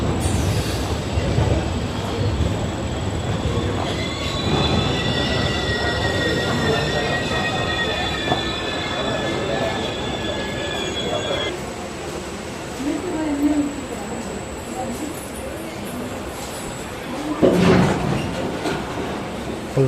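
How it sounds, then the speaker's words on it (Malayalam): Kannur to Yesvantpur express train pulling out of Vadakara railway station, loud rumble with long squealing wheel tones and clattering carriages; a voice talks over it briefly. "എൻ്റെ വടകര സ്റ്റേഷനിൽ അവിടെ വണ്ടി എടുത്തു."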